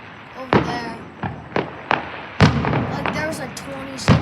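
Fireworks burst at a hotel display, a run of sharp separate bangs and pops at irregular intervals. They are fairly loud and come from a moderate distance, with some background noise between them.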